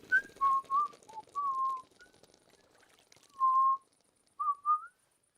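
Whistled tune from a rhythm minigame in Kingdom Come: Deliverance 2: several short, clear whistled notes with pitch slides, grouped in bursts with pauses between, alone with no talk.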